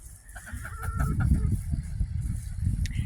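Chickens cluck outdoors on a cold winter day. Several birds give a busy run of overlapping clucks and short calls, close and fairly loud, with a brief higher squawk near the end and no talking.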